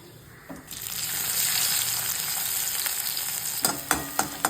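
Mustard seeds, cumin and onion frying in hot oil for a poha tomato bath give a steady close sizzle, with a few sharper crackles and spatters near the end.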